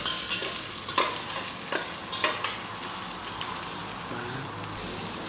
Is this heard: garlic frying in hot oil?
yes